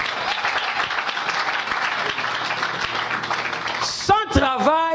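Church congregation applauding and clapping, a dense steady wash of many hands for about four seconds, then breaking off into a voice speaking up close.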